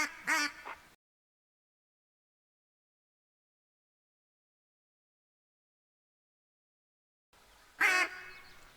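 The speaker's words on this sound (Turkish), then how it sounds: "ördek sesleri gelmeye başladı" Two short bursts of mallard duck quacking in the video game theHunter: Call of the Wild, one at the start and one near the end, separated by a long stretch of total silence.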